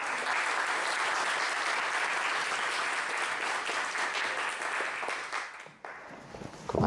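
Audience applause welcoming a guest speaker, a missionary, to a talk; steady, dense clapping fills the room for about six seconds, then abruptly drops away to quiet room noise.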